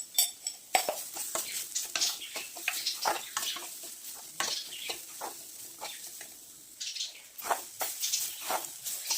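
Spiced stuffing for pigeon-pea (toor) masala sambar vadi is stirred and roasted in a pan with a little oil and amchur powder, giving steady scraping strokes and soft sizzling, with no talk over it.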